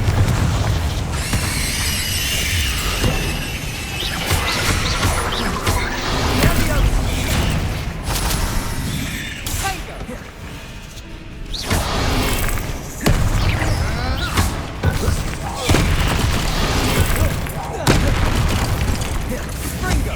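Bombarda and Confringo spell explosions from Hogwarts Legacy: a long run of loud booming blasts and crackling bursts, repeated every second or two over busy battle noise and music.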